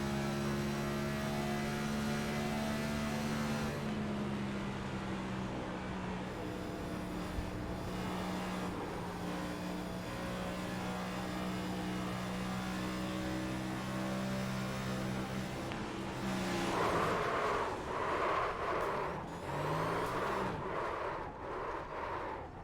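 Onboard roar of a NASCAR Next Gen race car in a sim racing game, a steady droning engine note that holds for a long stretch, then rises and shifts with fluttering revs near the end, no talk.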